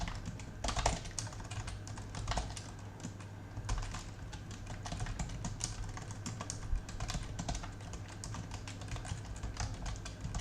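Someone typing code on a computer keyboard while writing a microcontroller program for an ultrasonic sensor, steady quiet clicking keystrokes at an even pace under a faint electrical hum, with no talking.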